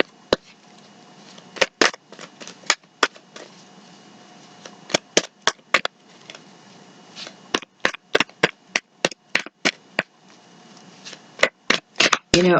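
Tarot cards being shuffled in repeated bursts of crisp snapping and riffling, with brief quiet gaps between passes, close up and alone.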